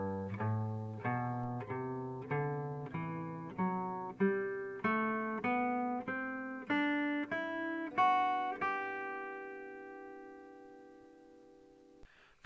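A guitar plays a major scale one note at a time, each note plucked evenly in a steady climbing sequence, the last note ringing out; quiet and close, no talking.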